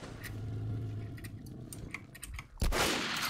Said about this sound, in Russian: Блин, а по панцирю-то я нафига выстрелил?